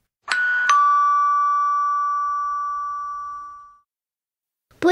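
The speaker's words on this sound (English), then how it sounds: "She rang Milo's doorbell." A single two-tone doorbell chime rings out clearly, its second note sustaining and slowly fading over a few seconds into silence.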